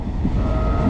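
Steady low rumble and rattle inside a moving passenger train, a dense continuous rolling drone heard from the carriage interior with no voices.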